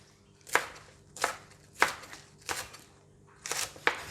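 A knife chops spring onion on a cutting board, six crisp, evenly spaced cuts about two-thirds of a second apart, close and distinct over quiet background.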